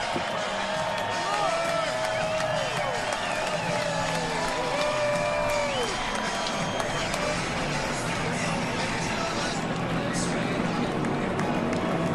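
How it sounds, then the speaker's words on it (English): A large crowd at a NASCAR-style race in Michigan roars steadily as the race cars come past at the start, with cheering and whoops forming a dense, loud wall of sound, and announcers speaking over it. "a big roar from the crowd as they come past"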